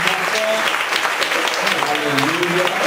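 A church congregation claps loudly and steadily for a few seconds, with voices mixed in beneath the applause.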